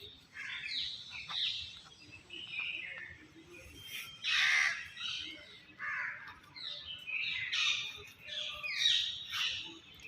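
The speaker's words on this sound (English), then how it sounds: "sounds of birds are chirping" Crows and other birds call outdoors in a natural setting, repeated caws and squawks at moderate distance in irregular bursts over about ten seconds, with no talk.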